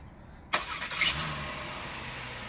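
A 2019 Honda Pilot engine starts by remote start with a sudden burst of cranking, then catches and settles into a steady, close idle hum, with no talk.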